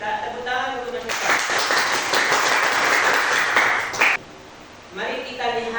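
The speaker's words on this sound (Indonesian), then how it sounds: "Tepuk tangan untuk Mas Vita." A classroom audience claps for a student after a correct answer, a dense burst of clapping lasting about three seconds between stretches of talk.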